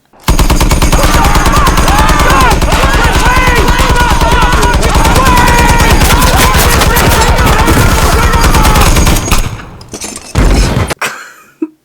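A film scene fills with relentless, loud automatic gunfire, a dense continuous burst lasting about nine seconds before breaking into a few scattered shots and then silence.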